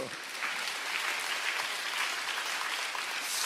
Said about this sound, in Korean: 믿는 사람만 박수 한번 쳐보세요.